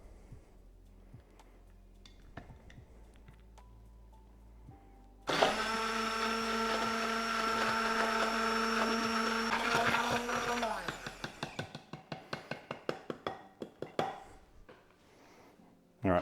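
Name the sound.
stick blender blending egg yolks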